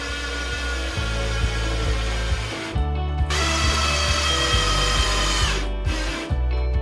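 A power tool drives screws to fix fittings in an accessible toilet, a loud close whirring motor that revs in pulses with ratcheting clicks and stops briefly twice before starting again.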